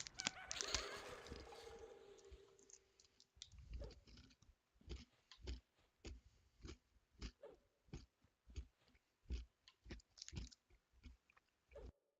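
Someone chews a crunchy chocolate bar close to the microphone, a loud crackle at first followed by steady, rhythmic crunching bites repeating about once a second, with no talking.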